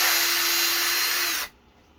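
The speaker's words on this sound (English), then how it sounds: "Then I just turn the drill on," Electric drill spins a Mopar 360 push rod while it is sanded to remove rust, a steady high whine running close and loud before cutting off abruptly near the end.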